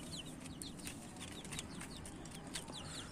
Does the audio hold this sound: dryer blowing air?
no